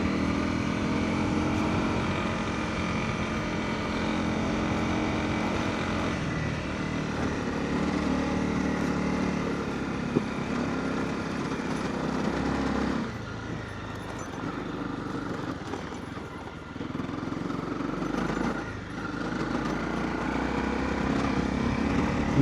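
An off-road motorcycle engine labours steadily through sand on a dirt riding track in the Wakefield district of the Adelaide Plains, a continuous close drone that dips briefly near the end before resuming.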